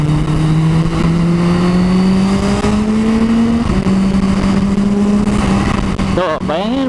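A Kawasaki H2 motorcycle pulls hard through the gears, its engine note climbing steadily with a quick-shifter blip before the revs sweep up again, loud and close throughout.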